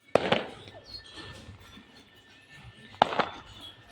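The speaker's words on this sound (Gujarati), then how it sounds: "આમ કે ફટાકડા ફૂટતા લાગે છે" Firecrackers burst at a festive wedding procession, two sharp cracks a few seconds apart, each followed by quick popping and a fading tail over faint background murmur.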